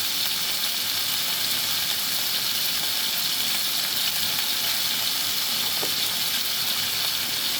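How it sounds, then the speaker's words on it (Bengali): Cauliflower with salt and turmeric fries in a pan under a lid, giving a loud, steady, hissing sizzle that continues without a break. "ঢাকা দিয়ে এটাকে ভাজবো"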